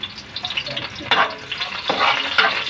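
Ground-meat fried rice with onion and garlic sautéing in a pan, a close, steady sizzle broken by scraping stir strokes.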